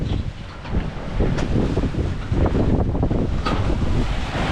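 Sailboat on a lake crossing a ferry's wake near Beaver Island: loud, close wind buffeting and rushing water, with the hull slapping through the waves in uneven surges.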